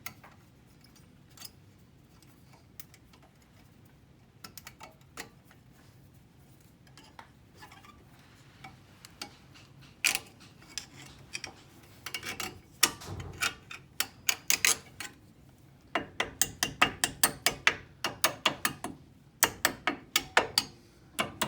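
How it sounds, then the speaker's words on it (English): Sharp metallic clicks and taps come from refitting the spring clip on a Ford Focus Mk2 brake caliper, sparse at first and then a quick run of close, bright ticks. "so we just need to put the spring clip back on"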